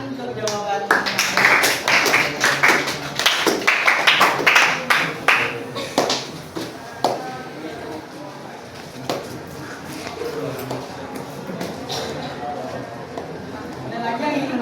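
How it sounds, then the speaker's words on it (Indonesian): Classroom of students claps to applaud an answer, a dense burst of hand claps at the start that thins into scattered taps and fades under a teacher's talk. "tepuk tangan untuk jawaban"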